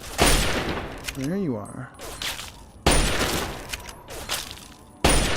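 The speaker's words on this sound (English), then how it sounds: "Who is shooting me?" Rapid bursts of enemy gunfire in the Fallout 3 video game, loud and close, crackling in several volleys with short gaps, while a voice briefly speaks over the shooting.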